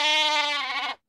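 A single sheep bleats loudly and close by, one sustained wavering call lasting about a second before cutting off into silence.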